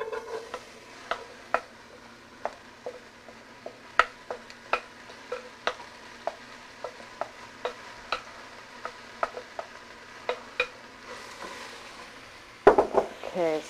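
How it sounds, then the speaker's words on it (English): Leeks cook in olive oil in a pan: a soft, low sizzle runs underneath a steady series of sharp utensil taps and clicks, ending in a brief louder clatter. "We're just going to add some olive oil, just about 2 teaspoons. And we're going to add our leeks."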